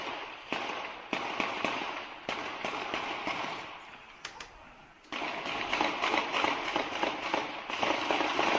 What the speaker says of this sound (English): There's explosions and gunfire going on down the street.